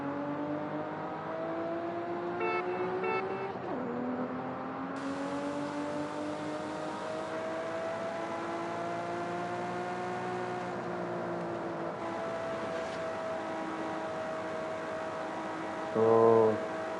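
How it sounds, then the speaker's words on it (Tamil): A damaged 1998 Toyota Supra RZ in Forza Horizon 5 drives with a steady, droning engine hum that shifts pitch with the gears, ending in a short louder burst. "வண்டி கொஞ்சம் அங்கங்கே உடஞ்சி இருக்கனால கட கட கடன்னு சவுண்டு கேட்குது"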